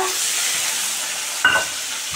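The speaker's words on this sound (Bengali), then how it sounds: "এখানে তেল বসিয়ে দিয়েছি, কড়াই গরম হয়ে গেছে। চিংড়ি মাছগুলো দিয়ে দেব।" Prawns fry in hot oil in a heated wok, a steady close sizzle and hiss running throughout, with a brief louder burst of sputtering partway through and no voices.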